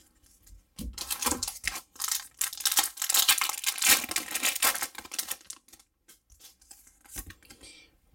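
Pokemon trading cards fresh from booster packs are shuffled quickly by hand, giving rapid, dense papery flicking and snapping that swells and fades in bursts, heard close up with no speech.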